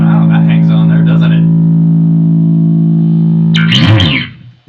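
Heavily distorted tones from a Tech 21 SansAmp Programmable effects unit: a loud sustained chord with rich overtones rings out and slowly decays, followed by a fresh strummed burst near the end, with no talking over it.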